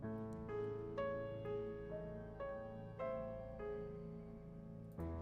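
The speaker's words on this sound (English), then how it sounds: "you listen to the piano in the first part of the piece" Piano notes sound one after another in a slow, gentle melody over sustained lower tones, fairly quiet and uninterrupted.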